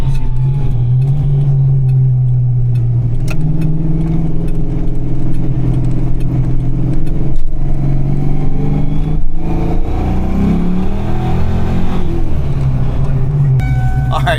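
A manual-transmission car engine hums steadily under load while driving, a loud continuous low drone with gear changes and revving shifts, heard from inside the cabin; people talk over it.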